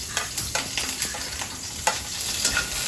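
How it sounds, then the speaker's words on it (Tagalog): Onion and garlic sautéing for pancit, with a steady sizzle from the pan and repeated scraping stirs at a quick, uneven rhythm, close and fairly loud, with no talking. "igigisa na natin yung ano, yung sibuyas tsaka bawang na rin"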